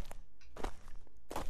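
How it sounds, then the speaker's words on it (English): Footstep sound effects play in Unreal Engine 5, randomized in pitch and volume: three dull, separate thuds spaced unevenly over about a second and a half, fairly close, with no voices. "our footsteps, sorry, are going to sound a little something like this"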